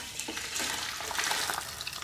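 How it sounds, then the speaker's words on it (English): Chicken browning breast side down in a hot pan, a steady sizzle and crackle of frying fat running continuously through the short stretch with no talk. "And now goes breast side down into the pan, just to brown it a bit."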